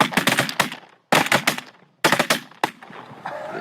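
Full-choke shotgun blasts fired at birds on a hunt, loud close bursts in three quick volleys separated by pauses, each shot cracking sharply and then trailing off, with no talk.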